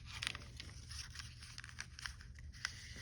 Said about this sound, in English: I think it's glassine by the sound of it